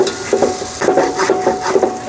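Chicken curry fries in a pan with a steady low sizzle, broken by rhythmic scraping strokes of a spoon roughly every half second.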